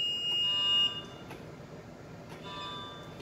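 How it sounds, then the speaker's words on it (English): A ship autopilot's off-course alarm sounding during testing with no speed, a steady electronic tone that holds, then drops away and returns more faintly, with soft clicks in a quiet bridge. "first it gives in low alarms because we have no speed and gives an off course alarm"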